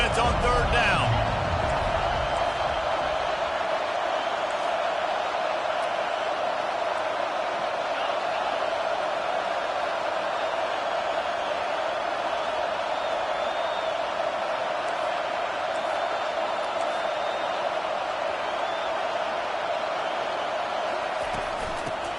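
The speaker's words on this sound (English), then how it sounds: "Decibels rising as the crowd gets behind this defense on 3rd down." College football stadium crowd roaring for the defense on third down, a loud, sustained wall of noise that holds steady with a commentator talking over it.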